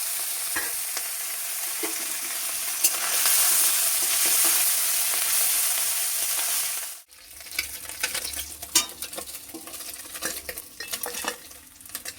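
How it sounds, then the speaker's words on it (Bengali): Eggplant and potato fry in oil left over from frying small fish, a loud steady sizzle that drops away midway, followed by close clinking and scraping of a utensil stirring in the pan. "একই তেলে বেগুন আর আলুটা ভেজে নিচ্ছি"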